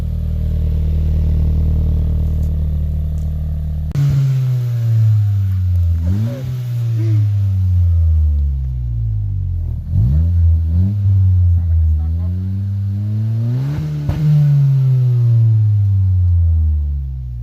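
A 10th-generation Honda Civic (2016–2021) with an Invidia catback exhaust and resonator starts up and revs repeatedly, loud and close, each rev rising and falling, with people talking briefly.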